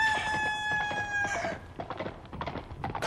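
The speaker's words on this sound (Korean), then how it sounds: "닭울음 소리가 났다" A rooster crows once, loud and close, with a long drawn-out call that fades into a dark roadside at night, followed by mixed background noise.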